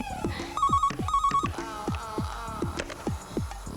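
A phone rings with repeated electronic trills in quick bursts over a steady hum and a rhythmic thumping background, fairly loud and close, with no voices over it.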